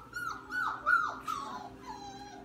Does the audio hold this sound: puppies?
yes